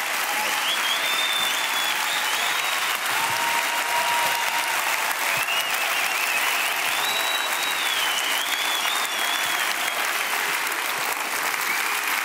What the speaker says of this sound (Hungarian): Tapsoljátok meg!